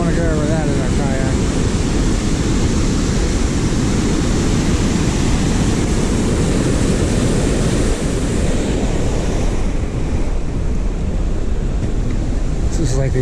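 Loud, rushing river water at the McConnells Mill overlook, a dense continuous roar that stays steady throughout, with wind buffeting the microphone and a voice speaking now and then.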